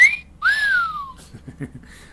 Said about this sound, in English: Oh, here's a whistle.